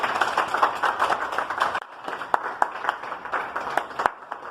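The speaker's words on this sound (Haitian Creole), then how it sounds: "Applaudissez nous fort." A small group applauds loudly at a school, with dense irregular claps that thin briefly midway and then continue as scattered, sharp individual claps.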